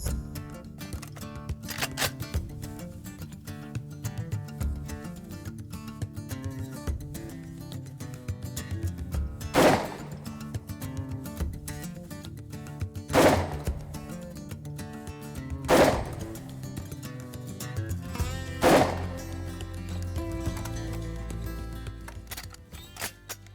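A shotgun fires 32 gram No. 4 shot cartridges at a paper target 20 metres away: four loud, sharp blasts spaced several seconds apart, heard over continuous background music.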